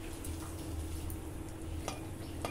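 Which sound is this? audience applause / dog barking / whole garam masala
whole garam masala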